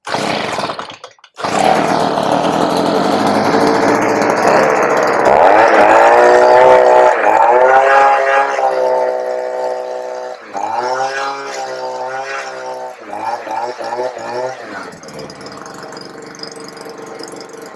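A Stihl SH85 leaf blower engine starts after a brief silence, then runs at a loud, buzzy high idle before revving up and down in uneven bursts, close to the microphone.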